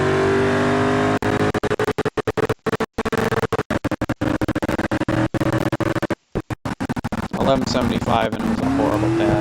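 A Gavril Moonhawk race car in a video game launches off a trans brake, its engine roaring and revving loudly while tires squeal, broken by brief gaps, with a voice talking over parts of it.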